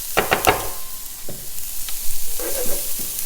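Shredded cabbage dropped into a pan of softening vegetables frying in oil, giving a few sharp rustling clatters up front, then a steady close sizzle with occasional stirring scrapes.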